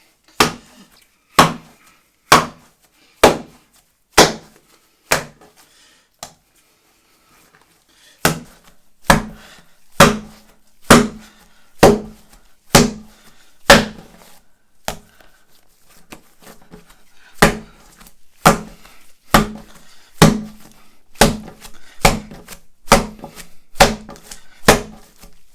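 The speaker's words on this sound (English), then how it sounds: "let's start with some fast kneading to get this really going." Brown bread dough is kneaded fast on a worktop, slapped down in steady, loud, close thuds about once every two thirds of a second, with a brief pause near the start and no talk.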